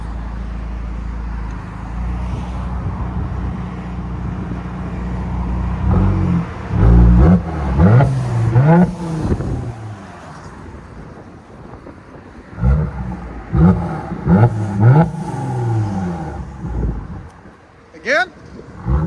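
A 2018 Mercedes E400 3.0L twin-turbo V6 with straight-pipe exhaust idles with a low rumble, then blips through several sharp, loud revs in two bursts, with people talking in between.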